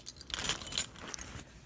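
Car keys on a keychain jangling, a bright metallic clinking and rattling in several quick bursts, close by and moderately loud, no talking.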